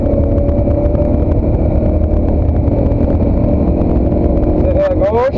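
A race car accelerates hard out of a corner at Spa-Francorchamps, its engine droning loud and steady throughout with a rising whine near the end, while a voice speaks over it.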